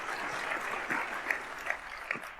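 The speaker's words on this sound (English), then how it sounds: "we got a round of applause" Audience applause fills a keynote hall at Snowflake Summit 2023, a steady wash of many hands clapping at moderate distance with a few sharper individual claps standing out.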